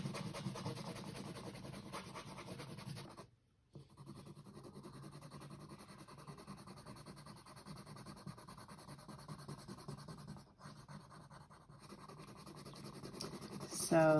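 Crayons or markers scratch steadily across paper as the background of an art strip is colored in, a continuous faint rubbing with brief pauses.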